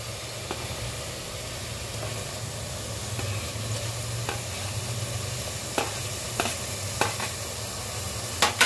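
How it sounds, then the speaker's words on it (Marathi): Fried vegetables being stirred into a simmering veg biryani gravy in a home kitchen, with a steady sizzle and hiss under occasional spoon scrapes and clinks against the pot; no talking. "हे मस्त सर्व एकजीव करून घेऊया."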